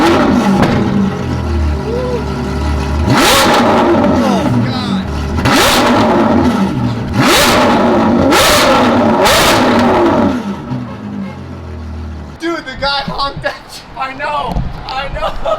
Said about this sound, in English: This is definitely the loudest exhaust I've heard personally.